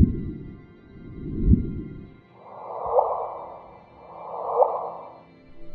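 Gravitational wave chirp imitated by human voices as several breathy, rising whooshing sweeps, each swelling and fading in turn, with no words spoken.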